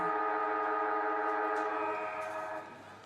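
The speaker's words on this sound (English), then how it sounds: "And the siren goes for half time." A loud, sustained siren sounds for half time at a women's football match between Darwin Buffettes and St Mary's in the NT Women's Premier League. It holds a steady tone, then fades slightly at the end, with no voices over it.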